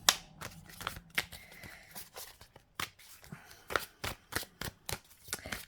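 Tarot cards are shuffled by hand, a quick irregular run of crisp riffling slaps and flutters, close and dry, with no talking.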